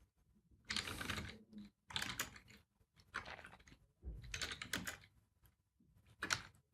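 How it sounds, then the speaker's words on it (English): Quick bursts of keystrokes on a computer keyboard, five separate runs of close, crisp clicking with short pauses between them, no talking. "we're going to type in the artist name"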